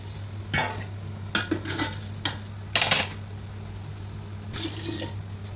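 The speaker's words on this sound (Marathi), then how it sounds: "चिंचेचं पाणी टाकायचं थोडंसं." Tamarind water splashes into a pan of mixed vegetables for a Bhogi sabzi, followed by several brief scraping stirs of a spoon against the pan over a faint steady hum.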